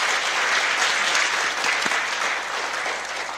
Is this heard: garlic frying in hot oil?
no